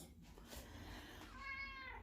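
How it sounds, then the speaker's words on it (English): A cat meows once, close and fairly quiet, the call rising into a drawn-out tonal whine near the end. "Sparky, what are you doing up by the sink? Huh, meow?"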